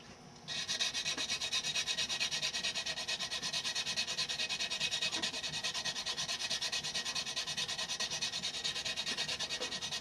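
Steady rhythmic hand sanding of a curved plastic car A-pillar trim piece, a continuous close rasping scrub with even back-and-forth strokes that starts abruptly and runs throughout, with no speech.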